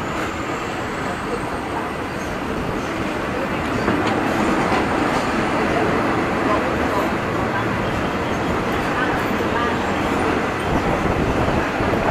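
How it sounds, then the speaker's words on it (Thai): Diesel passenger train from Bangkok to Chachoengsao accelerating, a steady loud broadband rumble and rail roar filling the whole stretch, with a slight swell partway through and no break. "ตอนนี้กำลังเร่งเครื่องนะฮะปล่อยควันขโมงทีเดียว"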